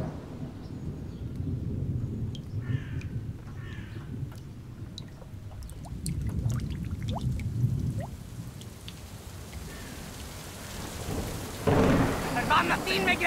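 A thunderstorm with rumbling thunder rolling in low waves and scattered raindrops and drips, building to heavier rain at the end, with faint voices in the background.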